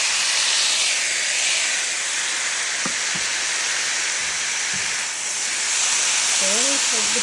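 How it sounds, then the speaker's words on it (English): Chicken pieces steam and sizzle in a pan, giving a steady, close hiss with a few faint clinks, and a voice speaks briefly at the end. "The chicken that wasn't quite completely cooked the first time is going to get a second chance to steam and cook here."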